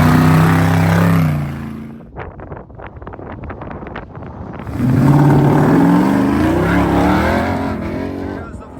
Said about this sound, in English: Here comes the Ori Struts Racing Jeep, another one of the diverse vehicles here.